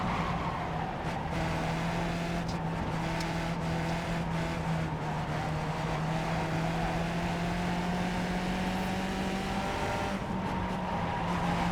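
A race car in the iRacing video game brakes at Lime Rock, its engine tone holding steady and then dropping slowly as it slows, with faint tire scrubbing and clicks over continuous loud engine drone.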